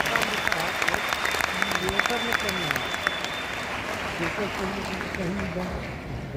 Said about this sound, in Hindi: ऐसे मैनेजमेंट के लिए जोरदार ताली होनी चाहिए